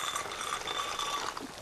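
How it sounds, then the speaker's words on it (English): Water at a rolling boil in a pot for pasta, a steady close bubbling hiss with no pauses and no talk. "Nice water on the boil for my pasta"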